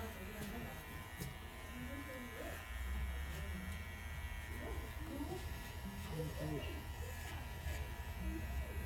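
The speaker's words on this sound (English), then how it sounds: "I'm gonna follow it with the trimmer" Electric hair trimmer buzzing steadily up close while cutting a skin fade in a barbershop, with people talking over it throughout.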